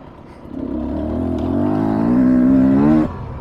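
A 2023 Beta 300 Race Edition dirt bike engine, running slightly sputtery, revs up steadily and loudly close by for about three seconds, then drops off abruptly.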